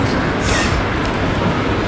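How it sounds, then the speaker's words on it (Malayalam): Loud, steady rumbling din inside Delhi railway station with train noise filling the space, no clear voices standing out. "ഇതാണ് ഡൽഹി റെയിൽവേ സ്റ്റേഷൻ്റെ ഉള്ളിലത്തെ അവസ്ഥ"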